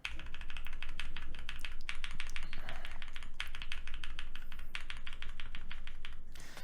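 Rapid, steady typing on a keyboard fitted with lubed and filmed Durock T1 and Sunflower tactile switches, dense close keystrokes clacking continuously with no talk.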